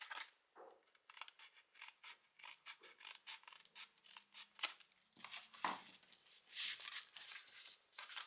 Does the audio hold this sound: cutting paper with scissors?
yes